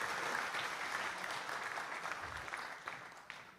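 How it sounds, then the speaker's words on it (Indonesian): Audience applause for a speaker named Rudy at a military and police staff college session, a moderate steady clapping from a crowd that tapers off gradually. "Tepuk tangan untuk Rudy."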